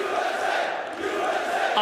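Fans at an MLG Columbus 2016 esports Counter-Strike semifinal cheer and roar in a loud, sustained wash of crowd noise that fills the whole moment.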